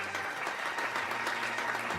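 Steady applause from an audience filling an arts project advert in Santa Maria, a dense wash of clapping that holds evenly throughout.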